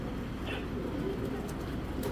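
A male military Giribaz pigeon, cheetah-marked, coos in low murmuring tones, close but soft, over a steady background hum with no clear voice over it.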